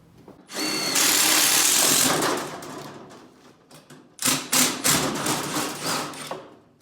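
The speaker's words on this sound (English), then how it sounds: "So we're gonna go ahead and cut this out and drill the holes for the rivets." A power drill whirs loudly for a couple of seconds while drilling rivet holes in metal on a golf cart, then winds down, followed by a few shorter bursts of drilling and metallic scraping.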